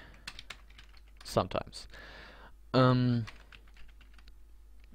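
Quick, light clatter of typing on a computer keyboard, scattered keystrokes heard close, with a voice briefly speaking and a short tonal sound in the middle.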